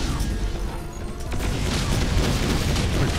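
Rockets explode in Plutonia 2 played with Brutal Doom, heavy booming blasts and crackling debris packed into a dense, continuous barrage that swells after a brief dip, loud and without talk.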